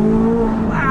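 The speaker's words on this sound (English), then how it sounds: "the exhaust is now in just the sport mode. Oh, but the crackles and the pops." A 2023 Chevrolet Corvette Z06 with its multi-mode exhaust in sport mode accelerates hard out of tight corners, a loud, close engine roar rising steadily in pitch over a brief burst.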